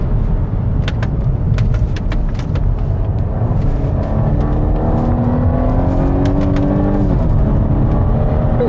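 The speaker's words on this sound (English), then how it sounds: "the engine doesn't sound amazing" A Volvo S60 B4 engine revs up inside the car, a loud, steady drone climbing in pitch over several seconds before settling back, with no talking.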